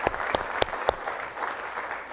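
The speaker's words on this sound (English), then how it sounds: "please give a round of applause" An audience applauds speakers at the close of a panel at a Mediterranean business summit in New York, steady clapping across the room with a few sharper, louder claps standing out near the start.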